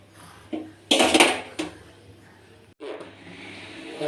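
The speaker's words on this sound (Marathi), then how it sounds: "आता गॅसवर मी कढई ठेवलेली आहे" A metal kadhai set down on a gas stove in a home kitchen gives a few sharp metallic clanks and scrapes, close and loud against a quiet hum, followed by softer rattling.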